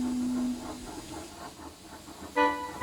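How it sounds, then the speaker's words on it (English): A damaged steam locomotive with a badly bent front lets out a soft, weak hiss of steam, then a short whistle-like toot near the end. "His front was badly bent, and he was hissing steam meekly."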